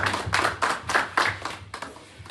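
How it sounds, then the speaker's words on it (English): An audience claps in applause at an album launch and listening event, a burst of close hand claps swelling and fading in a few waves over about two seconds. "A round of applause, please."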